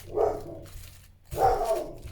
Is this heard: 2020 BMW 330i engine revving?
no